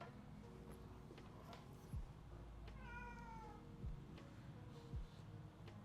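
A house cat gives a few short, soft meows against a quiet room hum, spaced a second or two apart, fairly faint with no talking.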